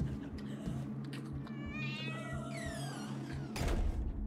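A cat meows in the video game Five Nights at Freddy's: Into the Pit, two drawn-out, rising-and-falling cries over a low ambient hum, followed by a dull knock or thump.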